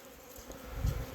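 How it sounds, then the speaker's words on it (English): A honeybee swarm buzzes as a soft, steady hum with a brief louder swell near the end. "These bees are a little flighty."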